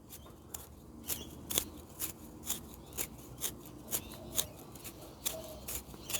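A cheap generic Study Mate pencil-style sharpener shaves wood into tinder, giving a steady series of short, crisp scraping strokes at a regular rhythm, close and fairly quiet, with no talking.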